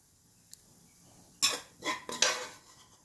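Garlic fried rice with Japanese-style pork sausage scraped and scooped into a serving bowl, a faint tap then three quick clattering scrapes of utensil against dish, close and alone.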